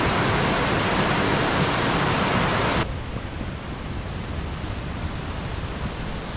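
Waterfall cascade outdoors: a loud, steady broadband rush of falling water that abruptly drops to a softer, duller roar partway through.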